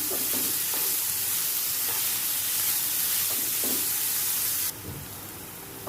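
Chopped spring onion and dry onion frying on high heat in a pan, a loud, continuous hissing sizzle with occasional soft stirring scrapes that thins out briefly near the end.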